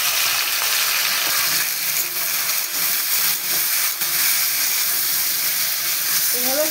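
Salt and turmeric fry in a pan with a continuous, loud, even sizzle and a few faint stirring knocks throughout.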